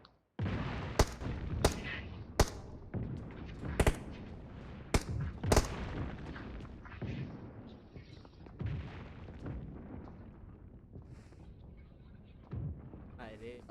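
Gunfire from bots in the game PUBG on Nimbus Island: rapid bursts of shots and sharp single cracks, loud and close at first, then scattered, with someone talking excitedly between and over them.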